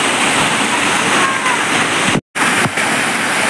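A waterfall hidden in the hills near Sule village, Kolhapur, roars as a loud, steady, broadband rush of falling water close by, interrupted by a brief dropout.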